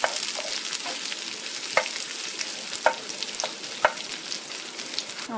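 Onions and curry leaves stirred and fried in oil over a low flame for koorkka thoran, a soft steady sizzle with periodic clear scrapes of a spoon against the pan.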